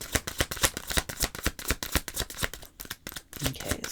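Tarot cards being shuffled by hand in a rapid run of crisp riffling snaps and flutters, close and fairly quiet, with brief pauses between bursts.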